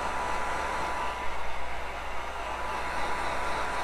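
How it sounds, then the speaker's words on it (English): A heat gun blows a steady, close hiss of hot air over chipped furniture paint, an even whooshing roar with no pauses. "So I'm gonna heat gun it."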